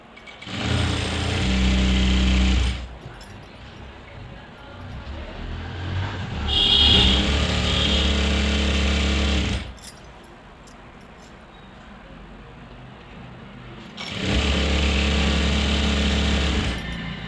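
A sewing machine stitches salwar fabric into a lehenga in three loud whirring runs of several seconds each, with quieter pauses between them.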